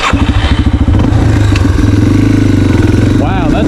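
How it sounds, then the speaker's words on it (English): A dirt bike engine chugs with a pulsing, uneven rhythm, then settles into a loud, steady running drone up close, with brief speech near the end. "good thing I got the dirt bike."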